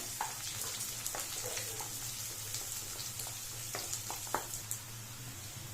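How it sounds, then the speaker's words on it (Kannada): Chopped onions frying in a pan for spicy chilli chicken gravy, a continuous soft sizzle with scattered crackles and pops, fairly quiet and steady, with no voices. "ಈರುಳ್ಳಿ ಫ್ರೈ ಆಗ್ತಿದೆ"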